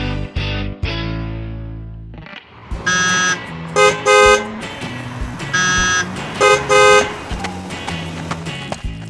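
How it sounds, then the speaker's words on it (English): Cartoon street scene of busy road traffic, with repeated loud car horn toots and honks over a steady rumble of passing vehicles. "Dog is struggling in the busy traffic."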